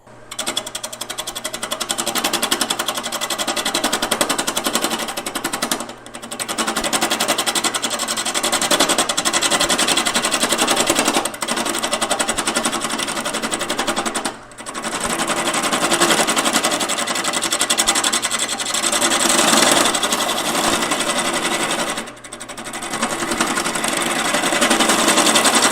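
A skew chisel cuts wood spinning on a woodturning lathe, giving a loud, continuous rough scraping and whirring roar with a few brief pauses where the tool lifts off.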